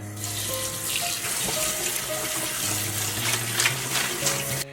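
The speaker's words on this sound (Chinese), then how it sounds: "我们先把蒜苔放在流水下冲洗干净" Garlic scapes rinsed under a running kitchen tap, a steady close splash of water over the stalks filling the whole stretch without speech.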